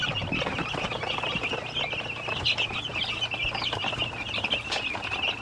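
A flock of Dekalb White layer chickens kept under a brooding lamp keeps up a continuous chorus of high chirping and clucking, moderately close and with no one speaking.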